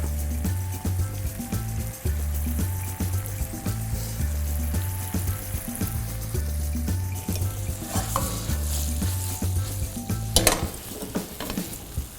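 Butter and apricot preserve sauce bubbles and thickens in a pan around pork chops for an apricot glaze, a steady close simmering sizzle with occasional stirring scrapes and a brief louder clatter near the end, no talking.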